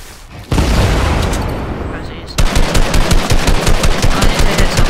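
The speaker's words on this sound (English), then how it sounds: "I need to hit some shots." Rapid automatic gunfire from a video game firefight, loud and close, with a sustained burst giving way to a steady stuttering rhythm of shots; voices are present underneath.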